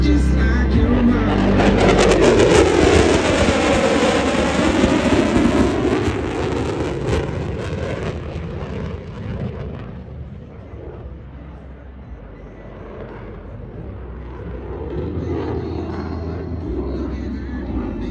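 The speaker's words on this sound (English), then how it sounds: "Watch closely as the aircraft pulls into the vertical" A thrust-vectoring fighter aircraft roars past close by at an air show, its engine noise rising, sweeping in pitch as it passes, then fading into a distant rumble.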